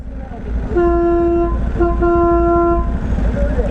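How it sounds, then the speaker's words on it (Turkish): Two loud, sustained air horn blasts sound in quick succession over a low engine rumble of traffic. "Havalı korna."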